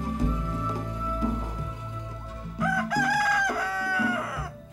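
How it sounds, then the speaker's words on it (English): Several roosters crow in Jamaica, long rising cock-a-doodle-doo calls, one fairly close and others overlapping, over low background rumble and hum. "The roosters here crow starting at 2 in the morning"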